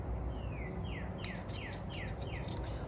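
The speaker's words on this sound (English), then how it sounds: "Listen to the birds singing." A bird repeats a short descending whistled call about six times in a steady rhythm, faint and somewhat distant over a low background hum.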